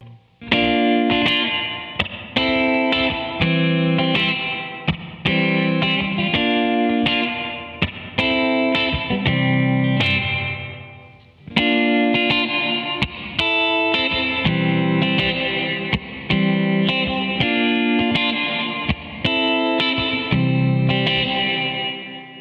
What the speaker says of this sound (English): changes the reverb type between the stock spring-style reverb and the more elegant and vastly superior plate reverb